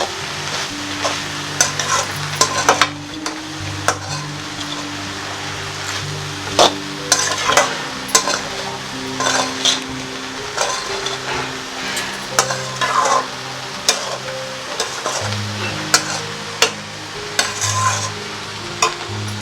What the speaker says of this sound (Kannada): ಕಾಯಿ ಹಾಕಿದ್ಮೇಲೆ ಈ ಥರ ಚೆನ್ನಾಗಿ ತಿರುವಿ ಸ್ವಲ್ಪ ಹೊತ್ತು.